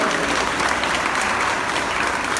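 A church congregation applauds together in a steady, dense burst of clapping that holds evenly at close range from start to finish, with no voices standing out.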